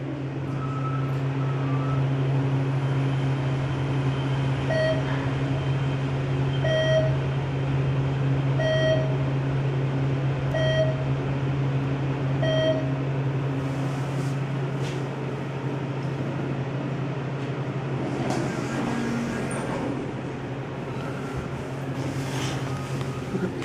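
A parking garage elevator ride in Lincoln, Nebraska: a steady low motor hum and whir fills the car, with a run of evenly spaced beeps or chimes early on and some faint rattles later.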